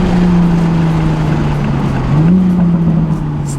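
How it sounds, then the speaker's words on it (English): A car with a B58 engine idles with a steady drone, then the revs briefly lift and settle as the gearbox automatically rev matches, heard close and alone. "You guys hear that? How like automatically rev match?"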